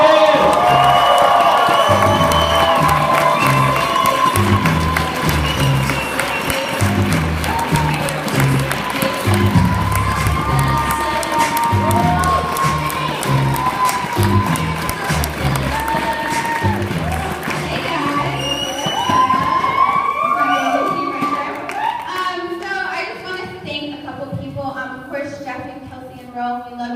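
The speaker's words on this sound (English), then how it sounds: "give a huge round of applause for the awesome Tony and Rick Velasquez" A large crowd at a Las Vegas stage event bursts into loud, sustained applause and cheering with whoops, the roar continuing for about twenty seconds before easing as a voice begins speaking over it.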